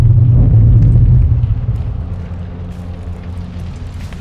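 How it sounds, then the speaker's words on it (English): Missile launch in the Modern Warfare II Chicago mission: a loud, deep roaring rumble with heavy low boom that holds strong for about a second and a half, then fades into a lower sustained rumble. "the missile is launching"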